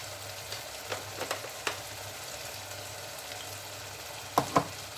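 Potatoes and black-eyed peas frying in a pan for aloo lobia, a steady soft sizzle with a few light stirring clinks and taps, close and fairly quiet, no talking.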